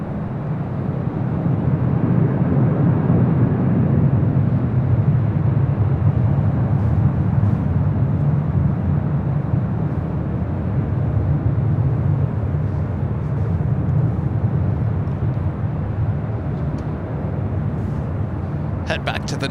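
Airbus A330-200 airliner arriving at LAX from Brisbane, heard as a continuous low, rumbling jet roar that stays loud and steady for about twenty seconds, with someone talking over it.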